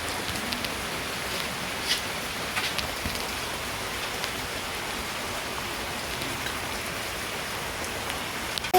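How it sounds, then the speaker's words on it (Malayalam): Heavy rain pouring steadily beside a canal near a tapioca field in Cherthala, a dense continuous hiss of drops on surfaces with no breaks throughout. "നല്ല മഴയായി."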